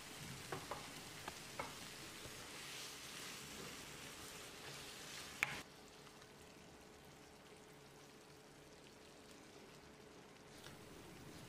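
Gravy for a chapati side dish bubbles and sizzles in a pan as a steady, soft simmer, with a brief clink near the middle and no voices.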